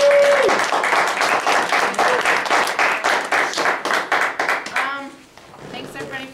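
An audience at an Occupy Colorado Springs gathering applauds a speaker, a loud, dense burst of clapping that tapers off over several seconds, with a brief tone at the start and faint voices as it fades.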